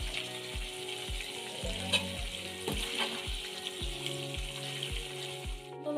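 Marinated chicken fries in a pan for chicken fry, giving a steady close sizzle broken by a regular series of soft low thumps.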